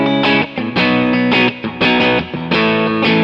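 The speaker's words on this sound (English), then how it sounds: "I'd have my clean sound, and it would sound like this." Electric guitar played through a clean sound on a Kemper profiling amp, with drive lowered: loud, full chords and single notes in short phrases with brief gaps, no voices.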